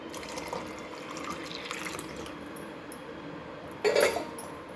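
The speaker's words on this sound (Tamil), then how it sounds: "பாதாம் பிசின் போட்டுக்கலாம் ஒரு கலக்கு கலக்கி குடிச்சிடலாம்" Buttermilk with almond gum is stirred in a glass, giving a soft liquid swirl over a low steady background and a brief, louder sloshing burst near the end.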